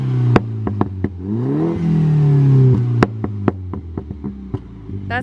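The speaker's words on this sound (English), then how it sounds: "Let's hear some revs." A Mini F56 engine with Burger Tuning Stage 1 revving up and dropping back, a close loud burst rising and falling once, then a steady idle broken by repeated sharp clicks and taps.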